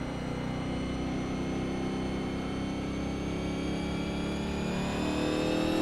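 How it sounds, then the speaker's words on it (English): A 1987 NASCAR Legends race car at Martinsville Speedway in iRacing held at full throttle, its engine a steady loud drone with a slowly rising pitch, continuous and close with no pauses. "He just full throttled it into the corner."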